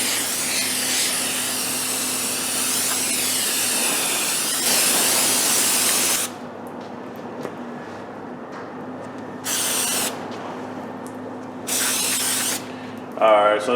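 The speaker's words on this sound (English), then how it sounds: "So let's just spray it off, get all that brake dust off of it." Loud aerosol brake cleaner sprayed onto a brake rotor of a 2002 Dodge diesel hisses in long bursts, stopping and restarting several times, with quieter pauses between and a brief rattle near the end.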